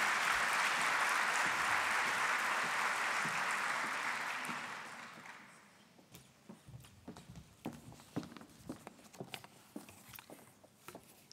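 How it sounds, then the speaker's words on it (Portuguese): A large audience applauds warmly at an oath ceremony for newly graduated dentists in Lisbon; the dense clapping holds for about four seconds, then fades into scattered footsteps and light movement noises. "Um aplauso para ela"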